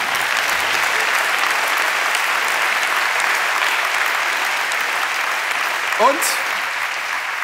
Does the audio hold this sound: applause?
yes